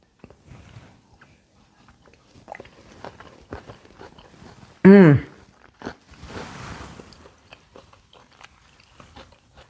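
Someone bites into a chimichurri steak salad bowl with chickpeas, giving close, intermittent crunching and chewing, with a brief hummed vocal sound in the middle.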